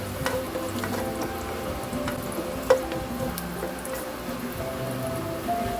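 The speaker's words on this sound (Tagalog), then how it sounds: "kapag mainit na, pwede na natin ilagay yung ating bawang" Garlic frying in a hot pan for a Filipino squid-and-cabbage dish gives a steady, close sizzle with soft stirring scrapes and one sharper clink partway through, with no talking.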